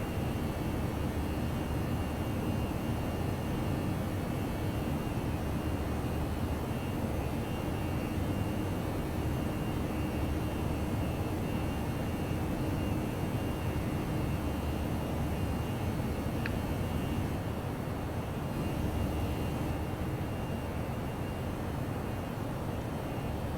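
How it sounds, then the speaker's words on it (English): A ToLiss A319 airliner in the X-Plane 11 flight simulator takes off with a steady, loud, broadband engine roar that holds constant throughout, with no talk over it. "runway 14 right, clear for takeoff."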